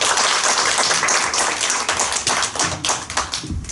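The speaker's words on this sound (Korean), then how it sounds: "큰 박수 부탁드립니다" Dense audience applause fills a small hall at a local party candidates' event, a steady close wash of many hands clapping that thins out toward the end.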